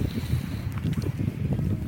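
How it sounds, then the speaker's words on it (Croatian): Wind blowing steadily on a cold winter walk outdoors, a constant rushing buffet of gusts close on the microphone, with no talking. "Malo puše, malo je hladno"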